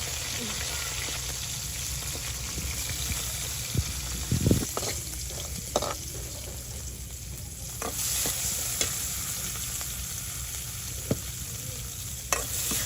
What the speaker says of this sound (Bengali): যে মাছগুলো ভাজা করছি দিয়ে দিচ্ছি লবণ